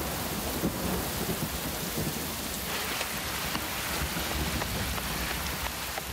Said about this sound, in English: a cloudburst after he'd gone had us scampering for cover